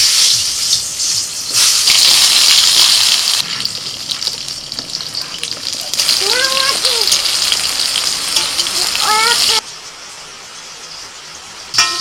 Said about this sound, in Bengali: বেগুন ছেড়ে দিচ্ছি।